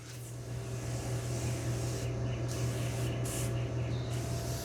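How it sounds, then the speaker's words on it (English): A steady hissing spray of cleaner from a spray bottle onto a motorbike continues for several seconds with brief louder bursts, over a low mechanical hum. "I'll give it a quick spray."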